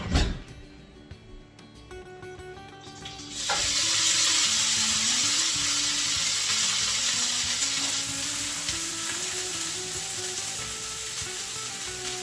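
Cooked rice sizzling in a hot pan, soft clinks and stirring in the first seconds, then a loud, steady broadband frying hiss takes over around the third second and holds close and continuous to the end, with no talk.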